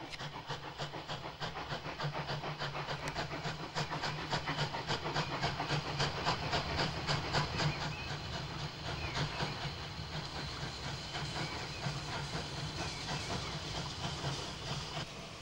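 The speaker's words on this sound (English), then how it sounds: "the Mogul headed for Aintree Shed" A Mogul steam locomotive working a special train on the North Liverpool line near Aintree in the twilight, heard as a steady loud chuffing beat with hiss and rolling wagon clatter throughout, no voices.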